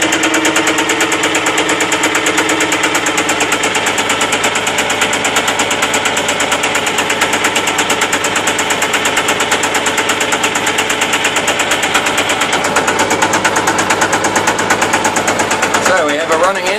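A small engine smoking from spilled oil runs at a steady, rapid putter, loud and close, with a constant buzzing rattle that barely changes until it briefly shifts near the end.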